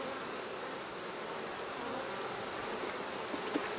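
Honey bees swarm around a large hive being split, a steady, dense buzzing drone that holds evenly throughout with no voices, close and moderately loud like many wings beating at once.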